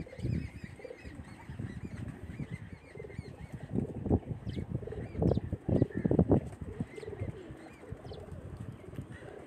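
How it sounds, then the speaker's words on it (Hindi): Migratory pigeons on a rooftop loft, soft throaty cooing from several birds with occasional wing flaps and faint chirps, fairly quiet and close, with no talk. "अभी हम आपको प्रवासी कबूतरों का शौक करवा रहे हैं"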